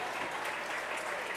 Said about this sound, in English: Round of applause you hear is because Avery Dibble is able to get to his feet.